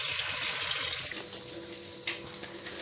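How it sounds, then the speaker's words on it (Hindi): Cold water runs from a tap onto hot cooked spinach for palak paneer, a steady close splashing stream for about a second before it stops and a few faint clinks and drips follow. "ये जो गरम पालक है इस पर मैं अभी तुरंत से ठंडा पानी डाल दूंगी"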